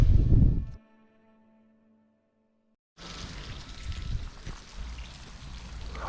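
Rain falls under a bridge at the Ebro river, heard as a steady broadband hiss that starts abruptly after a brief burst of noise and a stretch of near silence.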